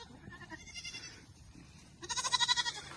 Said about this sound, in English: It's a goat stampede.